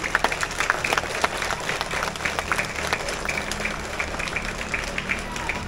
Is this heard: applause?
yes